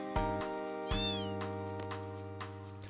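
A cat meows several times in a video game, Final Fantasy 8, heard over steady background music with a sustained tonal drone; the meows are short, clear and close.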